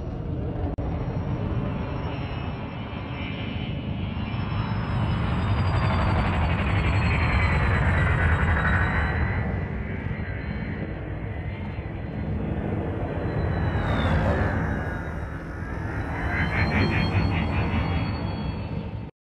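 Spaceships in the space combat game Elite: Dangerous streaking past, layered engine roars and whooshes that swell and fade over steady rumbling, with high whining tones sweeping through, heard at a moderate level.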